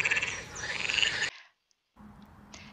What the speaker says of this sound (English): This is an adult frog.